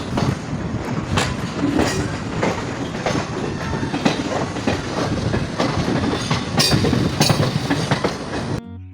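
A train near Chennai rolling along the rails, its wheels clacking in an uneven rhythm over a steady loud rumble, with occasional sharper metallic clanks.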